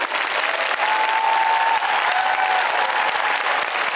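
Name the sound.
audience applause at Tokyo Comic Con opening ceremony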